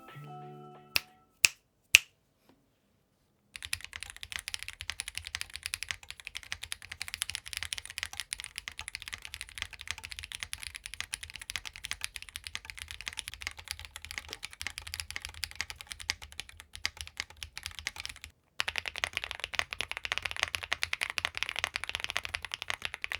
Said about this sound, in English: let's take a listen to this board with no foams in the three different configurations